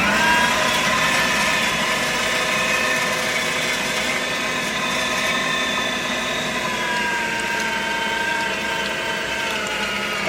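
Electric meat grinder working through long strips of pork for breakfast sausage, a steady, close motor hum with a grinding rasp that holds without a break.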